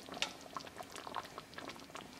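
Creamy matar paneer gravy bubbles gently in a pan on low heat, soft scattered pops and blips close by and fairly quiet, with no talking.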